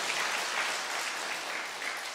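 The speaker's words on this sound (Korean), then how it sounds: "이럴 때 박수 한번 치시면 강사가 힘이 나서" Congregation applauding a visiting speaker during an afternoon church service, dense even clapping that holds steady and fairly loud throughout.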